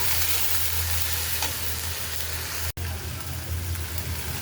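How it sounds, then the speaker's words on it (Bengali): A paste of ground ginger, onion and garlic with salt sizzles in hot oil, a loud, dense, continuous frying hiss that carries on without talk, broken only by one brief dropout. "মশলাটাকে তেলের উপরে ভাজা হোক।"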